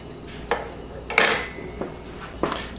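Salt being mixed into flour in a bowl, with a few sharp clinks and scrapes of a utensil against the bowl spaced irregularly, close by with no talk.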